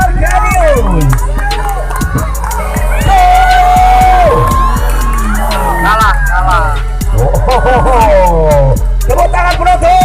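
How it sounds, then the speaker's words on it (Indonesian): Crowd at an outdoor anniversary celebration in Mesuji with an off-road 4x4 event, a loud ongoing hubbub with scattered whoops and cheers under an announcer's voice, a steady low rumble beneath it all. "Tepuk tangan penonton."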